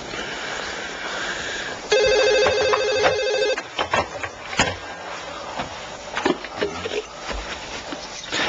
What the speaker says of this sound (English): He answers the phone.